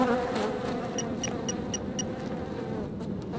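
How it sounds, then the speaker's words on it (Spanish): A housefly buzzes close by in Sniper Ghost Warrior II, a steady insect drone of a few seconds marked by a short run of evenly spaced high clicks, with no speech. "¡Ay, la mosca de la mierda!"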